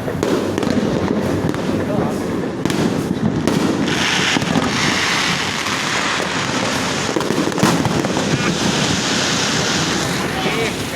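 Dense crackling of fireworks and firecrackers popping continuously at a distance in the rain, mixed with wind rumble and a crowd's chatter.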